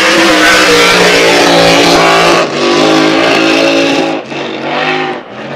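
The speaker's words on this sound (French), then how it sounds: "Des ratés dans le moteur" A hydroplane race boat engine roaring loud and close during Valleyfield Grand Prix time trials, its sustained roar briefly cutting out several times as the engine misfires.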